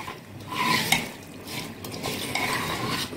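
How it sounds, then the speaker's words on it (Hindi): Beef shami kebab mixture stirred in a pot with water added, a close scraping and sloshing spoon sound in repeated strokes, fairly loud and without talk. "अच्छी तरह मिक्स कर लें"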